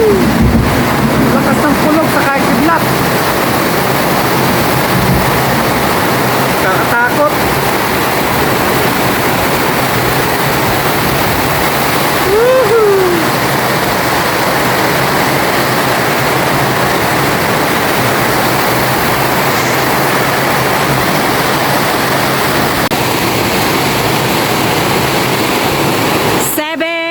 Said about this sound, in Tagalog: yung ganitong ulan po, yung kagaya nito na kalakas